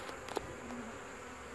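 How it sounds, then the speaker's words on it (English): Honey bees on a hive frame give a faint, steady buzzing hum, close but quiet, broken by a couple of soft brief taps. "sometimes you can touch your bees. They'll move out of the way."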